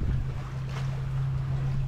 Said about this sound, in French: que le bruit de l'eau contre la coque